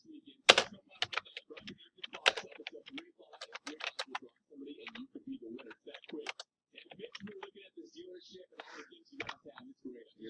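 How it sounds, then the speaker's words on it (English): Keys clatter on a computer keyboard as a command is entered, quick bursts of clicks interspersed with short pauses, close and fairly quiet, with a voice murmuring intermittently alongside. "Now, it tells me to type in show running config."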